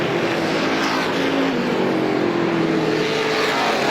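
Race cars roar steadily down the back straightaway at Star Speedway during a strictly feature, a continuous loud engine drone with a slowly shifting pitch as the pack passes.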